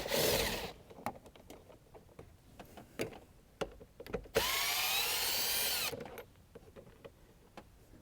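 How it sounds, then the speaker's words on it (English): A power tool backs out screws on the cooling duct of a 2015-17 Corvette Z06, with bursts of whirring drill noise between sharp ticks and clicks, close up and fairly quiet. "We'll begin the disassembly process by first removing the 4 screws that are securing the cooling duct."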